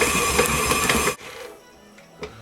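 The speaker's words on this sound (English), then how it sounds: "Now we're going to turn the mixer on to medium and mix it some more." Stand mixer kneading fairly dry cinnamon roll dough at medium speed, a loud steady whirring drone that cuts off abruptly after about a second, leaving quiet room tone with a faint knock near the end.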